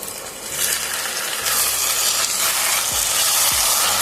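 Chicken kosha sizzling and frying in a pan, a steady broadband hiss of oil and moisture that holds throughout, with a couple of brief knocks or stirs near the end.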